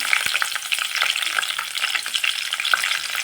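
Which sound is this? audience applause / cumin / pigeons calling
cumin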